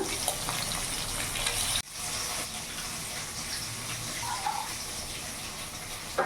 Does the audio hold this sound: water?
yes